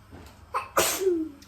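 A single sharp sneeze, a quick inhale followed by a bursting release, close and fairly loud against quiet surroundings.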